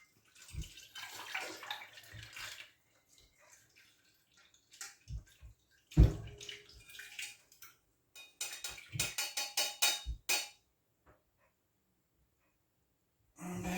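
Homemade elderberry linctus pours through a strainer with liquid trickling and splashing in short bursts, punctuated by clinks of a pot or utensil, close and fairly quiet with pauses between pours.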